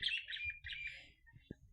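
A pair of Fischer's lovebirds give a quick burst of high, scratchy chirps and twitters close by, fading toward the end, with a soft low thump under them.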